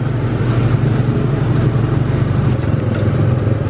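A small, slow Magic Kingdom ride car drives along with a steady, close engine hum that stays even throughout.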